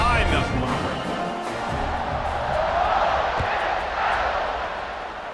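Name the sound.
stadium crowd cheering in EA Sports College Football 26 video game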